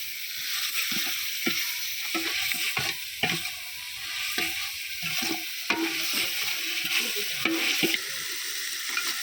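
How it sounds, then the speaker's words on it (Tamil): Onion, ginger-garlic paste and tomato sauté in a hot pan for a village country chicken curry: a steady sizzle with repeated scraping stirs of a spatula at an irregular, busy rhythm, close and clear. "வெங்காயம், இஞ்சி பூண்டு உள்ளது, தக்காளி எல்லாம் நல்லா பச்சை வாசம் போகிற வரைக்கும் நல்லா வதக்கிக்கலாம்."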